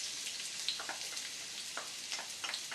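Chopped onion sizzling in hot oil in a paella pan over medium heat, a faint, steady crackle with scattered pops and spits, no voices over it.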